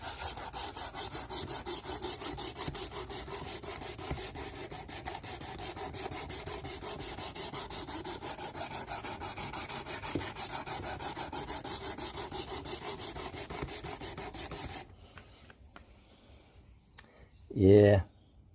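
Quick, even rasping strokes of a knife across a Work Sharp Precision Adjust WSBCHPAJ-I sharpener, close up for about fifteen seconds, followed by near quiet and a brief louder knock at the end.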